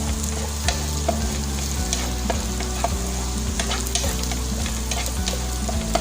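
Garlic frying in butter until nearly brown, a close, steady crackling sizzle with small pops and scrapes as it is stirred in the pan, no voices.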